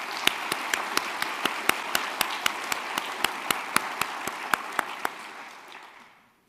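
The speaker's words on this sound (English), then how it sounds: "So I would like a round of applause for General Myers" Audience applause in a university lecture hall at Kansas State University, a dense wash of clapping with a few sharp individual claps standing out, steady for several seconds before fading away at the end.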